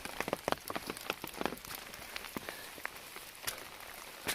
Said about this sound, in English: heaviest, sustained downpour during daylight hours that we've had yet